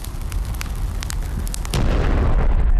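A loud explosion sound effect on a Brazilian football talk show bursts in partway through, a deep rumbling boom over crackling debris that sustains to the end.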